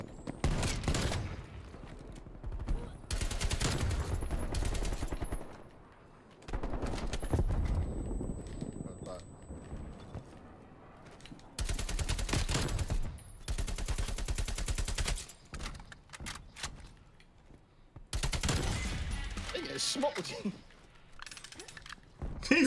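Hand cannon gunfire in Black Ops Cold War, heard as loud bursts of shots in several clusters separated by quieter gaps, with mechanical clatter and a voice talking over parts of the fighting.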